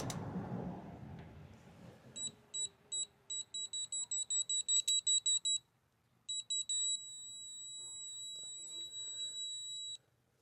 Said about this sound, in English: Gives you a little buzzer to let you know you're getting close